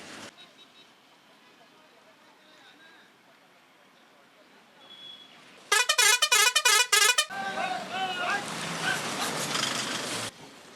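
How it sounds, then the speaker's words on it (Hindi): A loud, piercing pressure horn blasts in several rapid pulses, then people talk over ongoing traffic noise before the sound cuts off. "ये हाई पिकअप और हाई प्रेशर हॉर्न"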